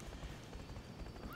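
Horse hooves clip-clopping in the Wii game I Love Horses: Rider's Paradise, quick faint thuds over a short burst, ending in a brief rising whinny.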